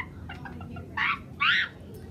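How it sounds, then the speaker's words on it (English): Two short, close clucking bursts sound from birds, with quiet background noise in between. "it's time to feed some hungry chickens"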